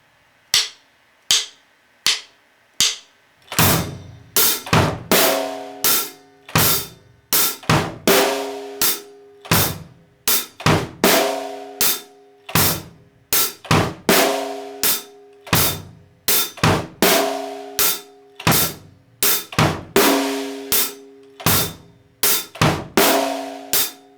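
Drum kit beat with sixteenth notes on the bass drum, starting with a few sparse solo hits, then a steady, sharp, close groove of kick, snare and cymbal strokes in a repeating pattern.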